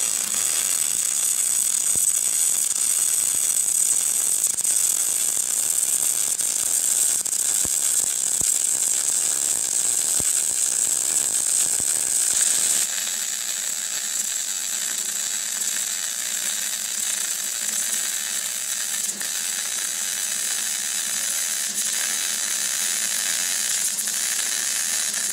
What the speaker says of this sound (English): that in a nutshell is overhead MIG welding